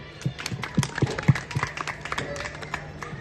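At a Hindi Diwas programme, a small audience claps in a loose, uneven patter of individual claps that continues steadily for a few seconds at moderate distance.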